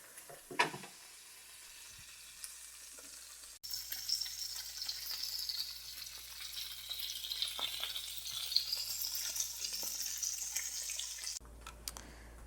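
Bacon cheeseburger patties sizzling in a skillet, a steady, fairly quiet frying hiss that holds for several seconds and then cuts off abruptly, with a brief clatter before it starts.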